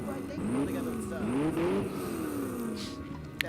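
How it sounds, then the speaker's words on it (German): A sports car engine in the video game Watch Dogs hums and purrs up close, its pitch rising and falling smoothly as it revs, ending with a brief click. "Der Wagen schnurrt, was?"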